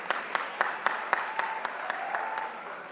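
A seated crowd at a sports encouragement event claps to welcome an honoured guest, sustained applause punctuated by sharp individual claps standing out close by, with no speech over it.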